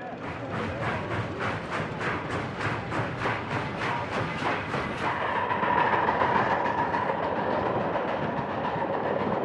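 A train rolls along with rhythmic clickety-clack of wheels over rail joints, evenly spaced beats for about five seconds before giving way to a steadier rumbling hum, with narration over it.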